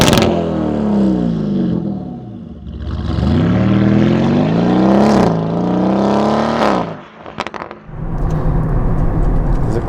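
A Novitec-tuned Lamborghini Urus SE V8 SUV drives close by with a loud, deep engine note that rises and falls through the gears. Sharp crackles and pops come off the throttle before the engine settles into a steady drone.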